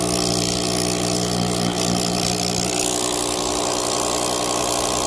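A Lokithor AW401 jump pack with built-in tire inflator runs its pump, a loud, steady motorized buzz with a constant vibrating drone, close by and uninterrupted throughout.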